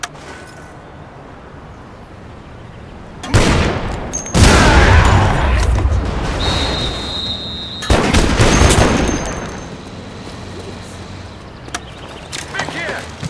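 Gunfire from the video game The Saboteur: loud bursts of rapid shots in two main volleys, with quieter scattered shots and a high whine in between.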